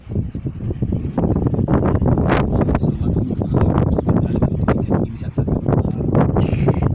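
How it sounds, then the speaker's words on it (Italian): Strong outdoor wind buffets the microphone in loud, irregular gusts and thumps that continue without a break, with a voice partly buried beneath the rumble. "c'è troppo vento, se no non si sente niente"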